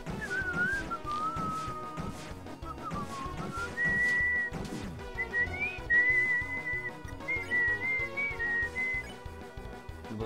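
A person whistles a song melody during a DELTARUNE boss fight, clear close whistled phrases rising and falling over game music with a steady beat, no talking.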